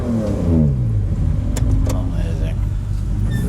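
A tuned sports car engine revs hard with a loud, throaty induction roar that rises and falls, close by, while people talk over it.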